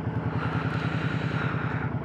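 Suzuki M50 motorcycle engine idling close up, a steady even low-pitched putter with a regular pulsing beat and slight mechanical clatter, no talking.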